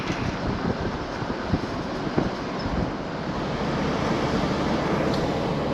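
Ocean surf rolls in along the shore at Islote, Puerto Rico, a continuous broadband wash of waves with wind buffeting the microphone, a few soft knocks, and no voices.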